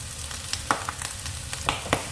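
Fennel seeds fry quietly in a pan for a Kerala clam meat roast, a soft continuous sizzle dotted with light spoon taps and stirring clicks.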